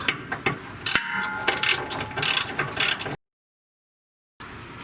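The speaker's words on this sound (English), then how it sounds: "Just insert your 13mm socket with the extension inside of the bump stop." A ratchet with a 13mm socket and extension loosens a bump stop on a Ford F-150 Raptor, a close run of quick metallic clicks and clanks in bursts, then a gap of silence and a brief return.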